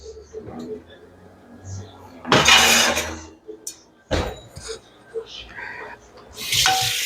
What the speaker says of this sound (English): I have to get the pan.